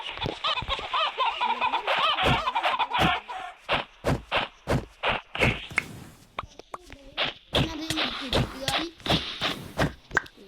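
A Roblox chicken clucks in a quick run of sharp, loud, evenly spaced clucks, with game sounds and a voice heard earlier.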